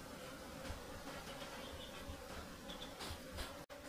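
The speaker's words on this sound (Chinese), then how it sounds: "收蜂就是这样子收啊，下蜜蜂就行了啊，把蜜蜂往上赶" Wild honeybees being driven up into a hive box under a fruit tree, their buzzing a continuous, fairly faint drone with scattered louder passes of individual bees.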